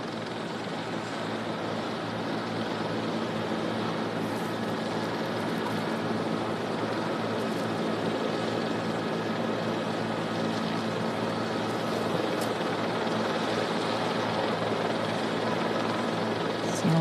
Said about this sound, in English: And here it comes in now, this JetBlue flight 292 with that front nose gear pointed sideways.